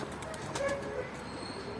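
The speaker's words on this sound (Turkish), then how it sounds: "Evet kuşumuz burada." A pigeon coos softly from close by, with faint background noise and a brief flutter.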